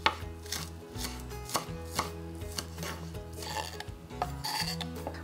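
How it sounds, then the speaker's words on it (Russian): Knife chopping green onion on a board for a crab stick salad, a quick, steady run of close, crisp cuts, with no talk. "Еще для вкуса я в салат добавлю пару перышек зеленого лука."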